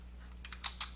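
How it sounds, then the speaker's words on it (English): Several quick keystrokes on a computer keyboard, entering a patch name for a vest, a few light taps clustered in the second half over a low steady hum. "type in the name of that patch"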